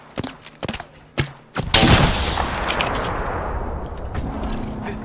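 Gunfire in the video game Apex Legends: a few sharp, separate clicks and cracks, then a loud blast that trails into sustained, rumbling combat noise, close and prominent.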